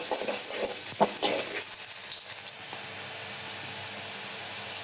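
Onions frying in a pan make a soft, even sizzle, with a few clinks and scrapes of stirring at the start before settling into a steady hiss.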